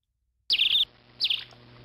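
Two short, bright bird chirps from a sound effects pack, each a quick high trill separated by a brief pause against near silence.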